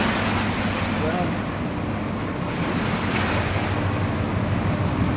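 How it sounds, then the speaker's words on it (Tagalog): Seawater surges into a ship in bad weather, giving a constant loud roar of churning water and wind. A low rumble runs underneath throughout. "pinasok na ng tubig dito."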